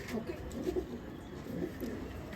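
Pigeons cooing softly and repeatedly at a rooftop pigeon loft in Sultanwind village, a low murmuring series of coos close by over a steady hiss.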